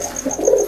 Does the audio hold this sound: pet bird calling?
yes